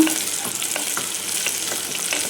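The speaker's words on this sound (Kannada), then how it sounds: "ನೋಡಿ, ಇದು ಇವಾಗ ನೋಡಿ ಫ್ರೈ ಆಗ್ತಾ ಬಂದಿದೆ. ಇನ್ನು ಸ್ವಲ್ಪ ಇದು ಫ್ರೈ ಆಗಬೇಕು." Ingredients for ghee rice fry in ghee in a pan with a steady, close sizzle and faint rhythmic stirring scrapes throughout, with no voices.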